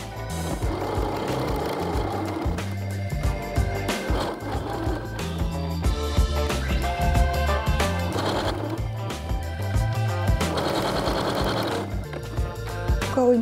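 A sewing machine runs in bursts while stitching a long decorative seam on a small shoulder bag, its rapid mechanical chatter loud and close, with brief pauses between runs.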